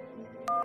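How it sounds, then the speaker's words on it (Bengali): A phone gives one short, clear dialing beep near the end, after a low steady hum. The tone is loud and steady and lasts only a moment. "তোর বিপ বিপ সাউন্ড হচ্ছে"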